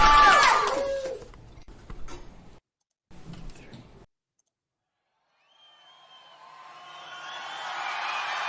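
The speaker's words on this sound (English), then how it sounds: "There it is. Wild cheering." A soundboard effect of wild crowd cheering and whooping fades in after a short silence and swells steadily louder to the end, following a few sharp clicks and bursts of noise.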